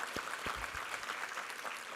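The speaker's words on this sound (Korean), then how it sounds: "우리 하나님께 감사와 영광의 박수 올려드리겠습니다." Congregation clapping in a church during a Sunday worship service, a steady wash of many hands with a few louder low thumps near the start, fairly distant and moderate in level.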